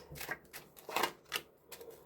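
Tarot cards are shuffled close by in quick, papery flicking bursts, a handful of soft irregular riffles with faint background noise and no talking.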